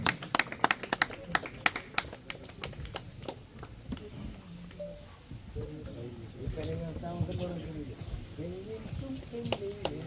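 Scattered hand claps from a small audience at a Malayalam film announcement event, crisp and close at first, then giving way to people talking.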